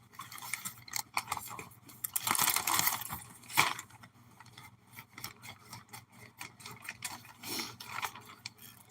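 Cutting the label off a cardboard supply box: close, rough scraping and crunching of a blade through cardboard in uneven strokes, with a louder sawing stretch partway through and no talking.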